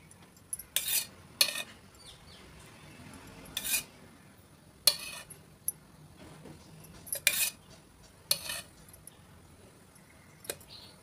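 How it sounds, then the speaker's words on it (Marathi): Wheat flour being roasted in ghee in a kadhai, heard as sharp spoon-against-pan scrapes and clinks in scattered bursts over a quiet, faint background with no talking. "आपण गव्हाचे पीठ भाजून घेऊया."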